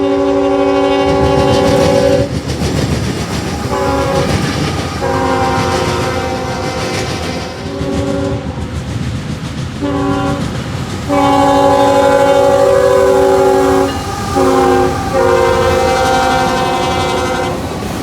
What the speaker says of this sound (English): a mixed freight, showed up on the CN line with 2 CN GEVOs at the helm